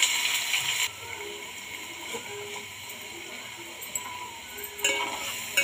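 Onions sizzle and fry steadily in a pan, a constant close hiss with occasional light stirring scrapes and soft clinks, and a brief louder burst of sizzling near the start and end.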